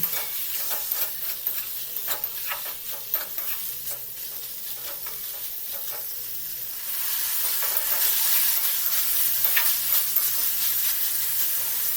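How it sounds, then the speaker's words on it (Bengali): Chicken gizzard pieces with a little salt sauté in a pan, a constant close sizzle and hiss broken by scraping stirs, louder and denser in the second half. "প্রথমে আমি গিলের টুকরোগুলিকে দিয়ে দেব আর দেব অল্প পরিমাণ লবণ এটাকে আমি বেশ কিছুক্ষণ কষিয়ে নেব"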